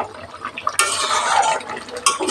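Spoon stirring sugar through pumpkin greens curry in a pan over high heat, with scraping, clattering strokes and a hiss of cooking that rise in bursts, close and moderately loud.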